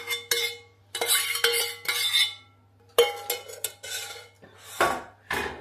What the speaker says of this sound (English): We then just give it a really good mix, just incorporating all of this together.